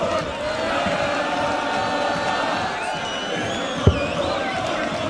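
A youthful crowd at a World Series of Darts finals match cheers and shouts steadily throughout, a dense roar with one sharp thud near the end.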